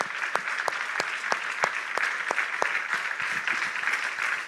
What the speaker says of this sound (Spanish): Yo quisiera dar un aplauso para los que han estado trabajando este fin de semana